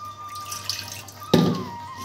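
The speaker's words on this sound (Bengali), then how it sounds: "একটু জল দিয়ে দিলাম" Water poured into a hot pan of cooking tangra fish, starting as a sudden splash and sizzle after a quiet kitchen hum, close and moderately loud, then settling into a softer bubbling.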